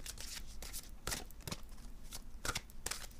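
A deck of cards is covered and cut by hand on a table, with a run of crisp riffling snaps and flutters in quick bursts, close and fairly quiet, with no talk.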